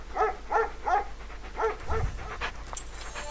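A dog in a video game, heard as a string of four or five close, evenly spaced barks, followed by a low thud and brighter game sound effects.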